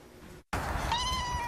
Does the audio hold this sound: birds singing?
no